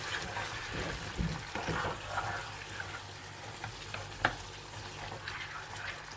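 Okra and lamb curry fries in a pan, bhindi gosht being stirred, with a soft steady sizzle broken by scraping strokes and light clinks of the spoon, close and moderately loud.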